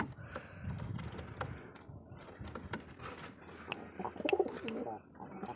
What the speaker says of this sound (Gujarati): તો આ કલચીરો કબૂતર છે.